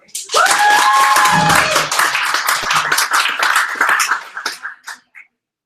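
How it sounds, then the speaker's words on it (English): Audience members at a DataVizDC December meetup clap to vote for a favourite, bursting into loud, close group clapping with a quick whistle or cheer at the start, then thinning out and fading to silence over about five seconds. "So clap if you like this one."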